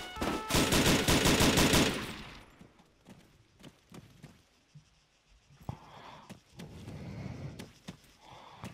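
Gunfire in a police role-play video game, a rapid burst of automatic shots rattling loudly for about two seconds, then quieter scattered sounds and faint movement.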